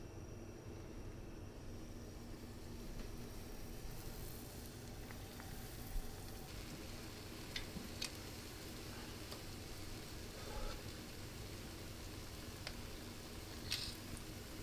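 Apple zeppole fry in very hot oil, giving a steady, even sizzle with faint scattered ticks and pops throughout; no talking.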